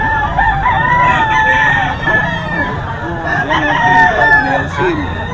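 Several gamecock stag roosters crowing at a grotto farm, overlapping crows close by over a steady background of clucking fowl and faint crowd murmur.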